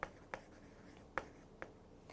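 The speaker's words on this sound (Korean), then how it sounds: "자, 써볼게요." Chalk or marker strokes on a classroom board during a high-school English lecture, four short sharp taps and scrapes spaced irregularly over quiet room tone, with no talking.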